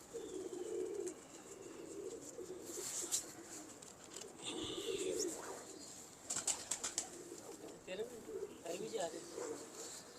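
Soft pigeon cooing repeats in low, throaty bursts, with faint chirps and a brief flutter of wings mixed in.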